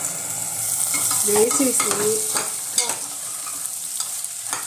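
Chickpeas and tomato fry in a pan with a steady sizzle while a spoon stirs and scrapes, close and continuous, and a voice briefly speaks over it.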